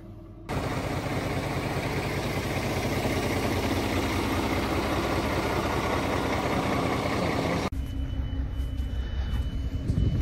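An old bus engine turns over and catches, then runs steadily in a loud, low rumbling idle with constant vibration, cutting off near the end.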